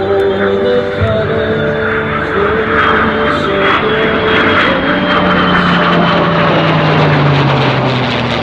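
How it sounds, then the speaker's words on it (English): A World War II era P-51 Mustang flies in formation at an airshow, its propeller engine droning loudly and steadily throughout with a slowly shifting pitch, near and continuous. "Flying in formation today is Valhalla, a World War II era P-51 Mustang."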